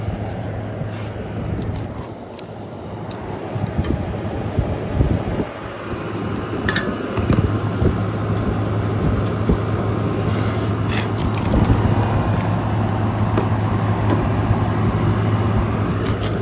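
Rooftop air conditioning unit with a Copeland compressor running through a pump down test: a continuous loud mechanical drone with a steady low hum, fan whoosh and occasional clicks and taps, no voices.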